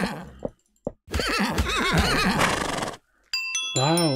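A horse in the game MineClone5 on Minetest whinnies loudly in a long, wavering call, followed by a short high tonal chime and another brief neigh.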